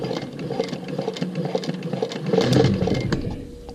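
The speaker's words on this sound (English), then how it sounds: "So my industrial machine now, with this synchronizer motor, it always stops in needle down position" An industrial sewing machine with a synchronizer motor stitches vinyl using Tex 90 thread at a long stitch length, a close, rapid patter of needle strokes over a motor hum that swells and then slows.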